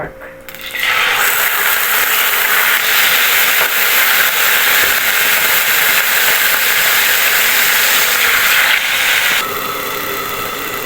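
Pork dropped into hot cooking oil in a pan, seasoned with fish sauce, erupts into a loud, steady, hissing sizzle that starts abruptly and holds close and strong for about ten seconds before easing slightly.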